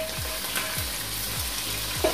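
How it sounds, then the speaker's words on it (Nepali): Chicken pieces sizzling with onions in a hot pan for chicken chow mein, a steady close frying hiss with periodic stirring scrapes, no talk. "ल यस पछाडि प्याज राखेको पछाडि चिकन राख्दैछु।"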